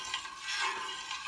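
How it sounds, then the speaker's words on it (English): Milk is stirred in a pot for cheesemaking, with soft swishing and scraping strokes in a slow, repeating rhythm, close and fairly quiet, with no voices. "you just want to stir like that and keep it going"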